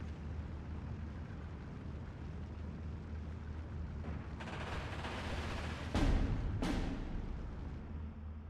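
Mortar rounds in the Steel Division 2 war game, a steady rumbling battlefield wash building into two sharp, loud impacts close together, each with a brief trailing roar.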